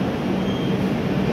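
Howrah New Delhi Rajdhani Express pulling out of Asansol Junction: a steady, loud low rumble of rolling stock with a faint high whine, continuous and close.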